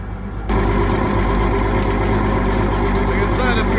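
A boat engine idles steadily aboard a Jaguar 35 yacht, a low constant drone that starts abruptly after a quieter first half-second and then runs evenly throughout.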